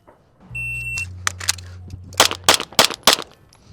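A shot timer beeps at a range, then a handgun fires a rapid string of about seven sharp, close shots during a 4 by 22 pistol speed and accuracy drill.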